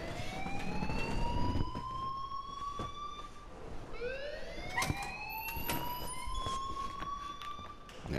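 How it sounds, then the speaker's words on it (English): An alarm in the Life Is Strange game wails as a rising, repeating siren tone, steady and fairly faint, with sharp knocks and clatter over it. "please turn off that alarm since that's your job"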